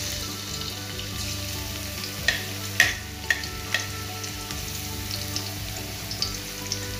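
Pork belly frying in a small amount of hot vegetable oil in a pan, a steady close sizzle with occasional sharp pops and stirring scrapes, no talk.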